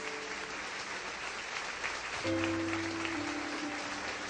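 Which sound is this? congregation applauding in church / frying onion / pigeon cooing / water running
congregation applauding in church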